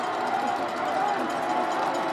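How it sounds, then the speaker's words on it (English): Crowd noise at a high school football game between Ray-Pec and Liberty North, a steady dense roar of many voices from the stands, continuous and fairly loud throughout. "Listen to the crowd."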